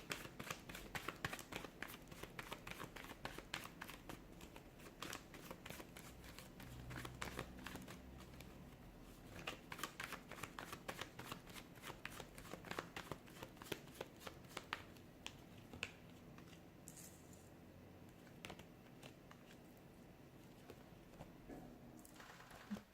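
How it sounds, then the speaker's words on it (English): Tarot cards are shuffled repeatedly at close range, a quick run of soft riffling and flicking that goes on steadily with no talking. "give the cards a shuffle and begin"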